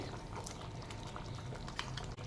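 Chow chow (chayote) curry simmers in a pot, a steady bubbling and gurgling that runs unbroken through the whole stretch at moderate, close level with no voices.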